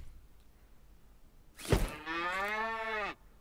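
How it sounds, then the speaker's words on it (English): A cow in the survival video game Scrap Mechanic gives a single loud, drawn-out moo lasting over a second, preceded by a short thump, against a quiet background. "There's a cow!"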